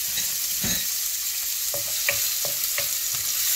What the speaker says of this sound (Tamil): வெங்காயம் பூண்டு பச்சை மிளகாய் இதெல்லாம் ஓரளவு நல்லா வதங்கிடுது